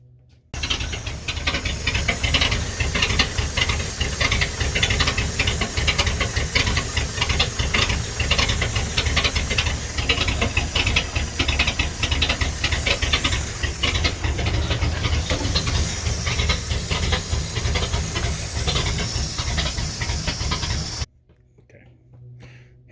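Original Ford flathead engine in a 1939 coupe runs steadily for about twenty seconds, a continuous hissing, rattling idle heard up close, then it cuts off abruptly into quiet.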